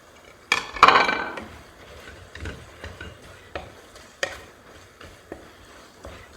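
Spatula stirring an egg into pad thai with shrimp sizzling in a pan: a loud clatter at the start, then scattered scraping and tapping knocks against the pan over a soft sizzle, no talk.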